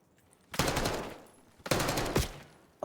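Gunfire from Black Ops 6 in a ranked multiplayer match: two loud, close bursts of rapid automatic fire about a second apart, each fading out, with a sharp shot at the end.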